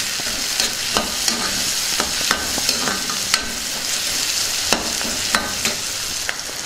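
A spatula scrapes and clicks steadily around a sizzling pan for a traditional Telugu-style chicken and egg fry, with crisp, repeated stirring knocks over a constant frying hiss.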